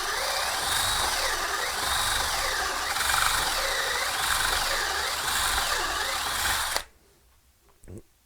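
A drill spins a small bullet-style wire wheel against the metal of a military bumper being reconditioned, a loud steady whirring grind that stops abruptly near the end, followed by a brief quiet clatter.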